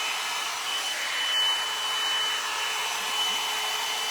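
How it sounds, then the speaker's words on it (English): A hair dryer brush runs with a steady, close whooshing hum and a faint high whine, holding constant with no speech. "I sectioned my hair off and I used my hair dryer brush"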